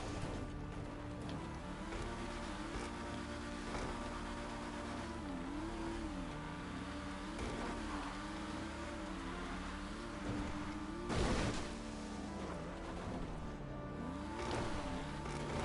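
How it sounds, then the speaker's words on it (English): A car engine in GTA 5 drones steadily for the whole stretch, its pitch wavering and sliding as the car is driven along a road and onto sand, with a brief louder burst near the end. "And drive your car over the hill"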